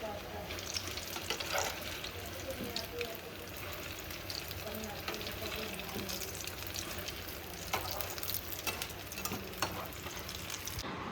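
Food fries in hot oil in a home kitchen, giving a steady crackling sizzle with scattered pops and stirring noises throughout, with faint voices in the background.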